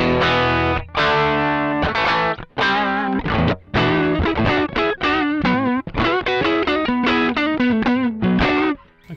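Electric guitar played through a Mosky Classic amp-simulator pedal, loud and distorted, with sustained chords and quick melodic runs filling the whole passage without pause.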